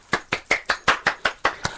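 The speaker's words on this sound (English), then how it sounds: "Applaud, applaud, applaud." Nine crisp handclaps from a single person, close and loud, in a steady quick rhythm of about five per second with no other sounds.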